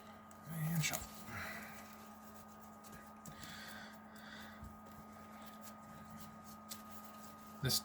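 A deck of trading cards is shuffled by hand in short riffling bursts near the start, followed by quieter handling beneath a low steady hum.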